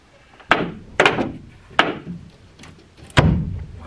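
A homestead barn door is drawn tight with a door puller, giving a series of sharp wooden thumps and knocks at irregular intervals, close and fairly loud with no voices.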